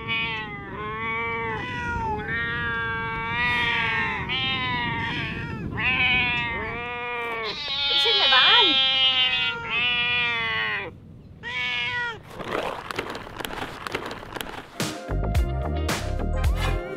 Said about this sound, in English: I'm a bit maybe allergic to all these cats I've attracted. No, and they're pretty vocal.